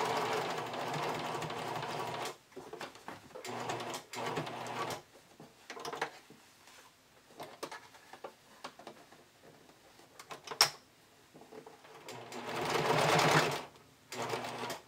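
A sewing machine stitching binding onto a strappy Cindy bikini top, running in several bursts of rapid needle chatter separated by short pauses, close and fairly quiet, with no talking.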